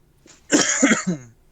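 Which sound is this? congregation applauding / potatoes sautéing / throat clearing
throat clearing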